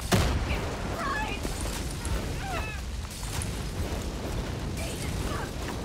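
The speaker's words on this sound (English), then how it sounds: "She can have a grenade as well." A grenade blast in the game Far Cry 5 opens with a loud boom that settles into a sustained rumbling roar lasting several seconds, with faint game sounds and chirps scattered through it.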